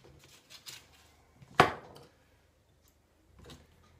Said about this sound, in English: I'm going to cut these into pieces